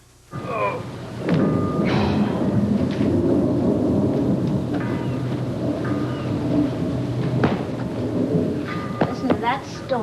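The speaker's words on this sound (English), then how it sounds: "Listen to that storm." Thunder rolls and rumbles low and heavy over steady rain, with occasional sharper cracks; a few faint background sounds mix in.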